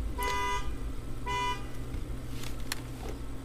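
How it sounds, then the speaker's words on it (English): A car horn honks outside, two short tonal blasts about a second apart, heard at a distance over a steady low background rumble. "Somebody's honking outside."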